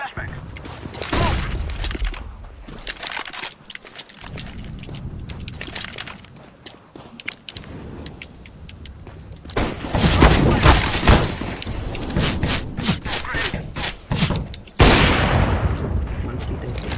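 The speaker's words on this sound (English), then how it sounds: "I'm throwing a flashbang." In a video game shootout, a thrown flashbang grenade bursts loudly amid booming gunfire and explosions, with players talking over the action.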